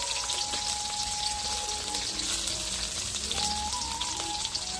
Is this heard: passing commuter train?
no